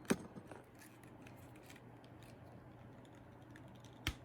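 Tight ratchet joints on a NECA 2003 Godzilla action figure, a sharp click at the start and another near the end, quiet and close over faint background hiss.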